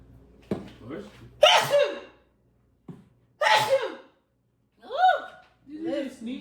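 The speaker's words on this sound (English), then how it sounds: "You just sneeze in your hands?" A person in a home kitchen cooking steak and shrimp hibachi sneezes several times in sharp, loud bursts separated by brief silences, with gasps and chuckles mixed in.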